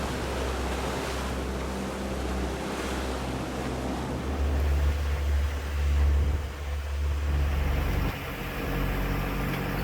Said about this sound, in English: we're actually having to motor because we don't have enough wind to sail fast enough